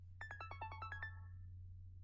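The iPhone classic ringtone Stargaze: a quick run of about nine bright, bell-like chiming notes in a tight rhythm, then a short ringing decay, heard alone over a low steady hum.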